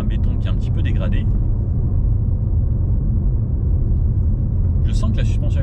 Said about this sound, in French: On a juste un peu les bruits de roulement, parce que là, on est sur un béton qui est un petit peu dégradé.